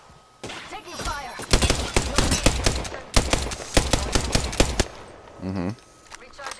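Rapid automatic gunfire rattles through a video game firefight in several loud bursts of crisp shots, separated by short pauses, with a brief electronic sound near the end.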